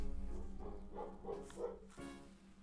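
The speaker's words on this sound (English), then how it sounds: "is a loud dog outside." Dog barking outside, several soft, somewhat muffled barks in a short uneven series at a distance.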